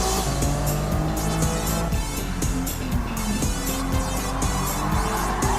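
A Toyota Crown race car in a racing video game roars steadily at high revs, with tires squealing and skidding through corners, surrounded by other cars' engines in a continuous, loud, dense racing din.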